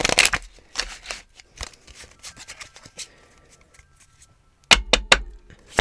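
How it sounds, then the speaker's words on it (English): A deck of tarot cards is shuffled quickly up close: crisp riffling and flicking bursts, then a quiet stretch, then a final loud flurry of card snaps. "Okay, I am going to shuffle this very quickly."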